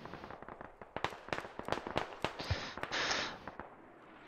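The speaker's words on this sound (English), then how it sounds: "Looks like Spit Mortars might be being counter-mortared right now." Mortar fire in the military video game Squad, on the Narva map, comes as a rapid series of sharp distant thumps and cracks, with a short hissing burst near the middle.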